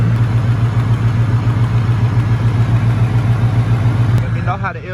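A Caprice SS fitted with a swapped 5.7 LT1 V8 idles steadily up close, a deep, even rumble holding throughout before easing slightly at the end.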